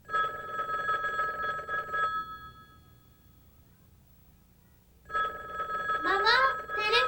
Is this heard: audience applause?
no